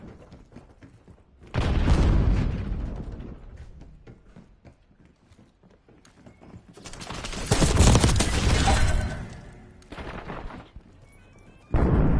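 Gunfire and explosions in a video game, loud bursts of combat noise around a frag grenade throw, with a heavy blast near the start, another long roaring stretch mid-clip and a shorter burst near the end, no talking.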